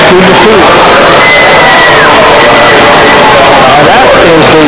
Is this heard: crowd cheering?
yes